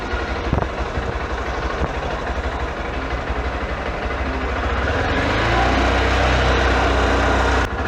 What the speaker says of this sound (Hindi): आपको ये हैवी बेस के साथ में इसका आपको एग्जॉस्ट साउंड सुनने के लिए मिल जाएगा।